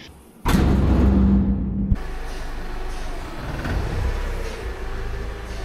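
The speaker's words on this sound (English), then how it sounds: "we got hub number 2 in the parts washer" Jet parts washer cleaning a greasy truck hub from an Autocar Construcktor, starting with a loud pneumatic hiss and mechanical rumble, then settling into a steady, lower spraying roar with churning noise.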